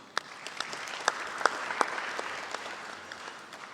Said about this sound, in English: I would like you to give our panelists a big round of applause